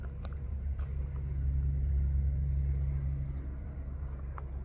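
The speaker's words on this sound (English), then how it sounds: "Loud trucks." Loud trucks passing in road traffic, a heavy, continuous low engine rumble that swells slightly in the middle and then eases off, with no talking.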